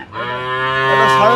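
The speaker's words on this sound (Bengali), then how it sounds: "সিন্ধি বাছুর আছে শাহিওয়াল বাছুর" A Sindhi calf at a rural cattle market gives one loud, close, drawn-out moo that rises steadily and holds to the end, with no voices over it.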